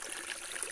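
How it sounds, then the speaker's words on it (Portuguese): Water runs steadily down a small forest stream in the Amazon, falling over a little drop with a constant soft rushing and trickling hiss, close by and unbroken, with no voices. "Onde ela faz a caída, a água, ela cai, elas correm"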